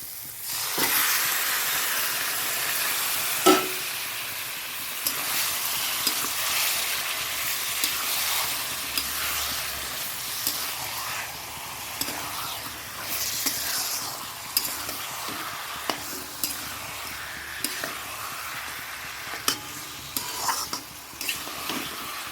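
Marinated chicken, seasoned with vinegar and salt, frying in a pan: a steady close hiss and sizzle runs throughout, punctuated by repeated scraping and clinking of stirring; no one speaks.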